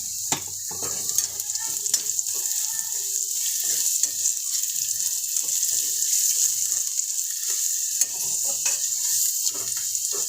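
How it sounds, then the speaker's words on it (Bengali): Turmeric is tipped into hot oil over reddened fried onions in a kadai for dal, giving a steady, close, continuous sizzle with occasional stirring clicks and scrapes throughout. "পেঁয়াজটা লাল হয়ে গেছে, ওই তেলের উপরে আমি হলুদটা দিয়ে দেবো"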